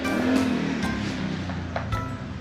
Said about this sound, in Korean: 이거 오토바이 소리